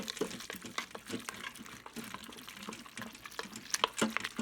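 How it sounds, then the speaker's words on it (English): Mac and cheese stirred in an Instant Pot with a blend of cheeses gives wet, sticky squelching and scraping sounds in an uneven rhythm, close and moderately loud. "let's start stirring"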